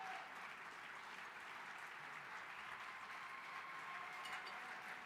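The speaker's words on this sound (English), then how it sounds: "It's a standing ovation." Steady, dense applause from a standing crowd at an evening fundraising gala, continuous and even throughout with no individual voices standing out.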